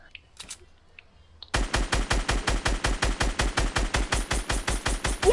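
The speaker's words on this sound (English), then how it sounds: "Yeah, we're shooting." Loud, rapid automatic gunfire from an online shooter video game, a steady stream of sharp shots after a brief quiet start, with no talking over it.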